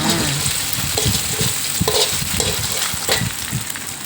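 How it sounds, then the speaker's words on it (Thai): Egg stir-frying with garlic in a hot pan: a steady, loud sizzle throughout, broken by repeated scraping and tapping of a spatula against the metal. "เราก็ใส่ไข่ ลงไปเลยจ้า ไข่ใช้แค่ฟองเดียวนะคะ ผัดง่ายๆเลยจ้า"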